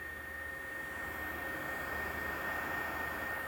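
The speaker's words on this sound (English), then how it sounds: "There's like a whirring sound." Steady whirring from an Aaxa M6 projector, a constant even drone with a thin high tone running throughout, close and moderately quiet, with no voices.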